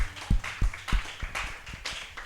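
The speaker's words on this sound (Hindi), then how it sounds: "ताली बजाए प्रभु के लिए" A church congregation claps in a steady rhythm, with several sharp hand claps spaced about a third of a second apart, fairly close and loud, with no speech over them.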